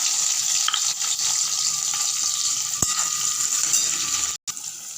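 Chopped onion, tomato and green chilli frying in refined oil, a loud continuous sizzle close by, with one short break near the end and no talk.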